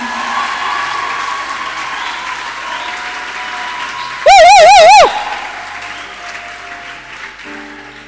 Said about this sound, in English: I want you to clap that clap again.